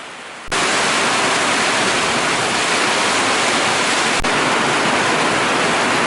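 Rain arriving at an outdoor shooting range, a quiet opening that swells suddenly into a loud, dense, steady hiss of falling water, with no voices.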